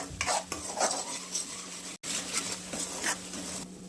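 A spatula scrapes and stirs mushroom curry in a hot pan, sizzling steadily close by, with a brief break partway through.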